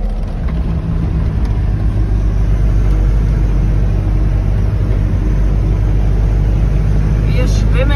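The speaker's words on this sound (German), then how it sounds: "ich fahre mit etwa 50 Stundenkilometer durch diese Prärielandschaft" A camper van rolls through Omani desert prairie near 50 km/h, with a loud steady engine and road rumble filling the cabin the whole time and a brief creak near the end.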